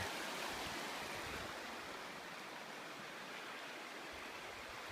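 The South Mills River flows in a steady, faint broadband rush of moving water, continuous and unbroken with no voices.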